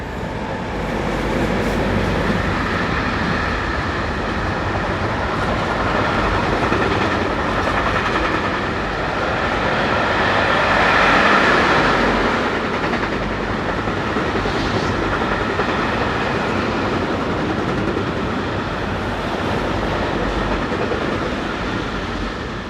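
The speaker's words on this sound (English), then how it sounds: "it was 485012 that led this formation as it headed west from Langenthal with the freight for the BLS route" A freight train led by a Class 485 locomotive heads west from Langenthal, a loud, steady rumble of rolling wagons with faint clickety-clack that swells slightly midway and holds for over twenty seconds.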